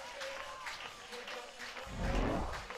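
A softball crowd cheering and clapping after an RBI double, soft applause at a distance that swells near the end, with commentators talking over it.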